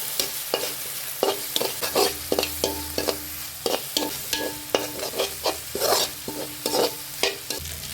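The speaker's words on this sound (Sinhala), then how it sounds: "දැන් අපි හොඳට මික්ස් කරගන්න" Noodles seasoned with salt are stirred and tossed in a pan with a utensil, producing rhythmic scraping strokes over a soft, steady sizzle, close and with no talking.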